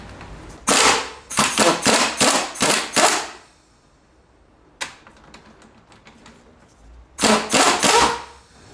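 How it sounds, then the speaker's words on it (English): Impact wrench rattling off the top nut of a car's front strut, loud bursts of rapid hammering followed by a quiet pause and another short burst, close up in a garage. "Now that that stuff is compressed, you can take the top nut off."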